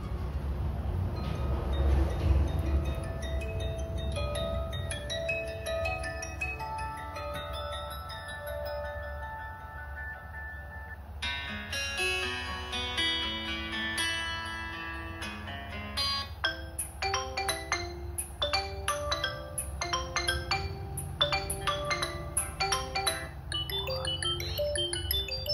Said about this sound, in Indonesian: Kita coba buat dengerin ringtone-nya aja.